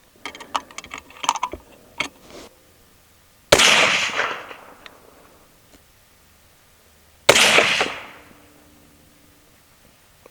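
Two sharp, loud rifle reports from a 6.5 Grendel rifle firing Palmetto State Armory FMJ ammunition at an outdoor range, each with a trailing echo, preceded by faint clicks and handling noises.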